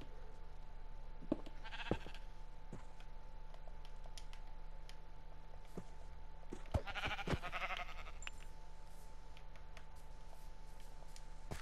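Sheep bleating in Minecraft, two separate faint bleats a few seconds apart over a quiet background with a few soft clicks.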